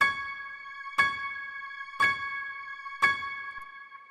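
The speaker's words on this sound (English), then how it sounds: "at the very start, I just have these piano chords that we clicked in" Four piano chords struck at an even one-second pace, each ringing out and fading before the next, played alone and fairly soft.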